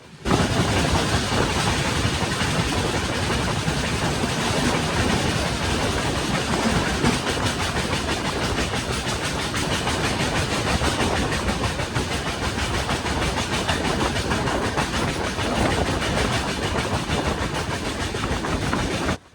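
A train rumbling steadily along the rails through hills on the Madurai to Dindigul line in India, loud and close, a continuous roar with rhythmic clatter and no talking.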